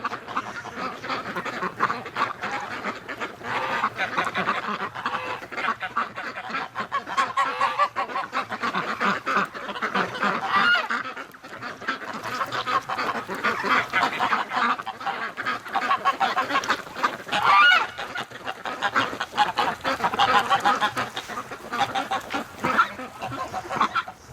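A group of female ducks in winter keeps up loud, overlapping quacking and honking calls nearby, chattering almost without pause throughout.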